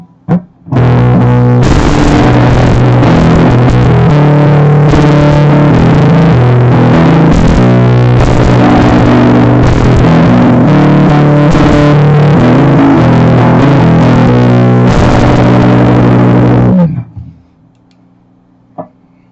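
A loud distorted electric guitar riff plays continuously for several seconds, then stops abruptly, leaving faint amp hum.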